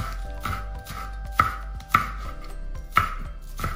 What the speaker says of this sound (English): I'm gonna cut up some green onions